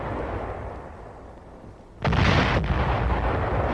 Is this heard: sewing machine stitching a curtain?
no